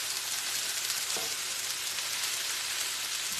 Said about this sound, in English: So we just need these beans to get heated through.